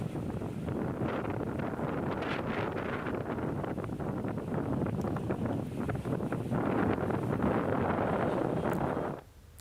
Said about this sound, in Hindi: शेखपुरा और छपरा में तेज हवाएं चल रही हैं